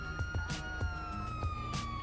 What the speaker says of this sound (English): Sirens, right here.